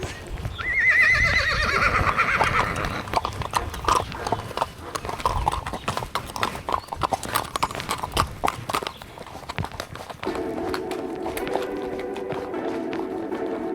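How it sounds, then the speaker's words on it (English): Horse hooves clip-clopping during a horse ride around the Iroquois Steeplechase, a rapid uneven series of close hoof strikes with a whinny near the start and a steadier background hum later. "for that horse ride"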